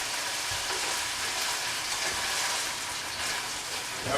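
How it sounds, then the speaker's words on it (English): Chicken noodle soup kept at a gentle boil in a pot, giving a steady, dense bubbling and sizzling hiss that holds even throughout, close by with no voices. "Keep like just a little bit of a boil going to it"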